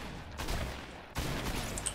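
A heavy sniper rifle fires in the Fortnite video game, one loud close shot followed after about a second by a second booming report, each with a long, ringing tail.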